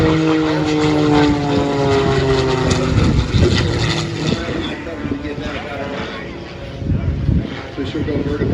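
Propeller aerobatic airplane at an airshow, engine droning loudly and rising in pitch as it pulls into a vertical climb, with a commentator talking over it throughout.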